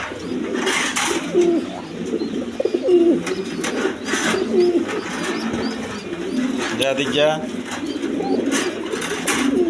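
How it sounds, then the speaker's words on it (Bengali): Pet pigeons cooing repeatedly in a corridor loft, soft throaty coos layered close together over steady background noise, with someone talking over them. "দেখেন খুব কিউট কবুতর"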